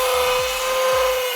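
A motorized saw slices through coiled wire to cut jump rings, giving a steady, fairly loud whine with a sustained tone and a gritty rasp throughout, with no talk.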